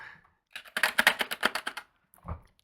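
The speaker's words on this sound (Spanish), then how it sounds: "Y algunas teclas del teclado." A short burst of quick keyboard typing, about a dozen crisp clacks in fast succession, close and isolated, followed by one softer tap.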